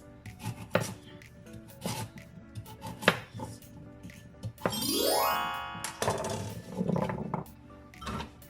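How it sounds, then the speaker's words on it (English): Carrots being cut on a cutting board, with several sharp knife knocks spaced out irregularly, a rising whirring sweep in the middle, then a few more chops and faint clinks, fairly quiet and with no talking. "If you need more, then you could slice up more carrots."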